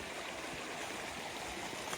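Creek water rushes steadily across a hiking trail crossing in winter woods at Bad Branch Falls, a continuous close broadband flowing and gurgling wash with no voices.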